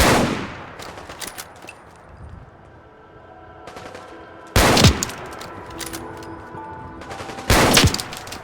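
Gunfire in the video game Fallout 4, with an opening shot followed by scattered quieter shots, then two loud, sharp bursts of rapid fire, all without speech.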